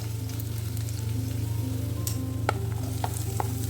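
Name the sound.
curry leaves and shallots sizzling while sautéed in oil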